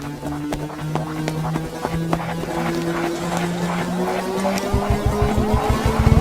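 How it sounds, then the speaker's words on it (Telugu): A Scorpio SUV races fast in a Telugu crime action film, its engine droning steadily with tyre squeals and rising, repeated rushing sweeps building toward the end. "వదిన స్కార్పియో హాస్పిటల్ లోపలికి వెళ్ళకుండా స్ట్రైట్ గా వెళ్తోంది"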